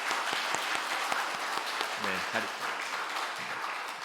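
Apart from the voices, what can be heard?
congregation applause in church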